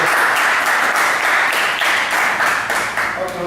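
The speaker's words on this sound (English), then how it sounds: "Let's hear another round of applause for Jeanette." An audience applauds a co-host at an interview event, a dense, steady burst of clapping that fades slightly toward the end.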